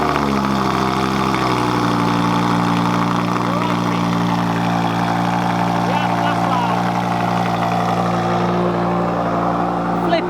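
A supercharged Lamborghini Huracan VF800 engine runs loud and close after a cold start, holding a deep, steady, harmonically rich idle throughout, with people talking over it.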